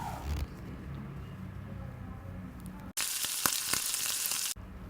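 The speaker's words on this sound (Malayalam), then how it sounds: "നന്നായിട്ടൊന്ന് ഇളക്കി യോജിപ്പിച്ച് കൊടുക്കാം" Onion masala seasoned with salt being stirred and fried in a pan for Kerala-style egg roast, a soft sizzle that turns sharply louder and harsher midway with scraping stirs, then drops back, no voices.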